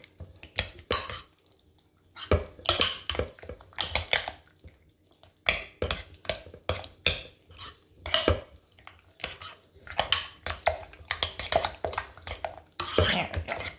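A spoon scrapes and clacks around a bowl in bursts of stirring and mixing, close and fairly quiet, with short pauses between strokes.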